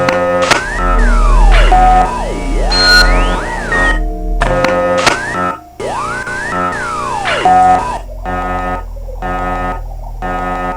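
Electronic beeps of different pitches in The Crystal Key video game, a loud run of sliding and stepped synthetic tones in bursts broken by short gaps, with no talk.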